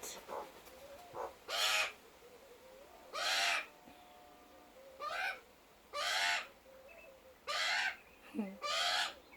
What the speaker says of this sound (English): Oh, butcherbirds, sorry, they're not magpies, they're butcherbirds.